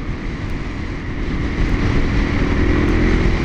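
A DRZ motorcycle engine drones steadily while riding home, a continuous rough rumble mixed with wind that swells slightly louder partway through, with no voices present.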